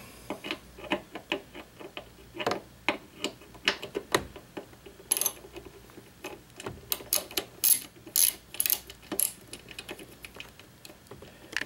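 A bolt is worked loose during a cold air intake installation on a Saturn Sky, giving close, irregular tool clicks and ratcheting taps throughout with small pauses.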